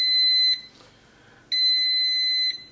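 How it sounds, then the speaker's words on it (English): An air fryer sounds its end-of-cooking alert after barbecue chicken tikka: two long, loud, piercing electronic beeps close by, separated by a short pause. "That's the final beep, and now we're going to open it."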